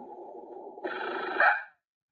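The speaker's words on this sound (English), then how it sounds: "That's a barking deer." A single harsh, hoarse call of a barking deer that rises in pitch partway through, sounding close and loud, much like a rough dog bark.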